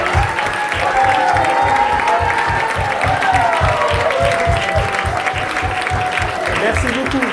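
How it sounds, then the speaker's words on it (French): Audience applause for the Insaisissable dance collective at a Christmas celebration, steady and sustained throughout with a rhythmic low thumping beneath it, probably music, and some voices in the crowd. "Gonzalez, F2, est-ce qu'on peut les applaudir?"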